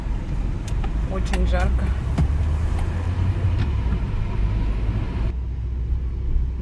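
A car drives along a road on a hot day, its steady low engine and road rumble running throughout beneath someone talking, with a faint jingle of keys early on.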